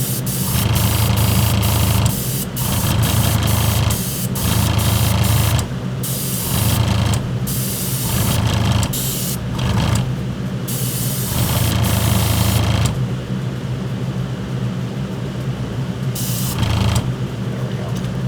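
Spray gun laying a wet, even coat of paint onto resin parts of a Blade Runner blaster kit, heard as a loud, close hiss in repeated bursts of a few seconds each with short gaps between passes.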